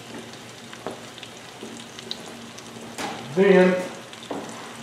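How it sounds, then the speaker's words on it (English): Onions frying in butter in a pan give a steady close sizzle throughout, with a brief louder hiss and clatter as they are moved about, while someone speaks a word over it. "Put the onions off in there, just like that."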